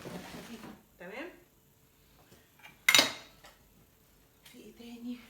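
Light plastic dishes clatter as they are handled and stacked away in a home kitchen, one sharp clatter standing out mid-clip amid softer knocks, while someone talks in between.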